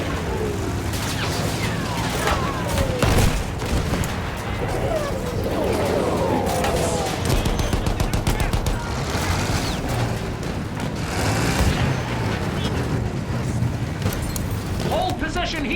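German field guns and gunfire in the Battlefield 1 game, with booms and rapid shots sounding constantly under a soldier's shouted voices throughout.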